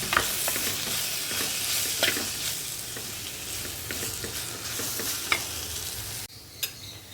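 Chili, turmeric and coriander powder being sautéed for a bitter gourd curry, a dense crackling sizzle with frequent scraping stirs, cutting off near the end before a last faint scrape.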